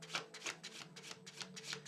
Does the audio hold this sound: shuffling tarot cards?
yes